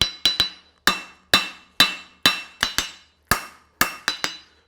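Hammer striking a hot horseshoe branch on an anvil while forging a caulk shoe, a dozen sharp ringing blows in an uneven rhythm, each with a short metallic decay, close and alone.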